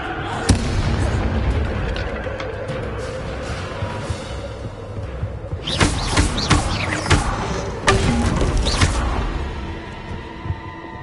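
Hogwarts Legacy gameplay with the Incendio fire spell cast, giving steady rumbling game ambience broken by a cluster of loud, crackling bursts and booms midway, then a few sharp hits near the end.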